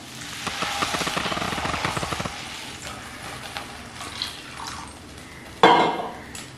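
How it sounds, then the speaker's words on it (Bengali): Two cups of water pour into a cooking pot with a rapid glugging gurgle for about two seconds, followed by quieter kitchen handling and then a sudden loud metallic clunk near the end. "এবার দিয়ে দেবো 2 কাপ জল।"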